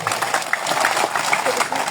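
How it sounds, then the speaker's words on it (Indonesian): Crowd applause at a regional election campaign rally, a loud, dense patter of many hands clapping close by, with voices mixed into the noise. "Kita berikan tepuk tangan Bapak Ibu."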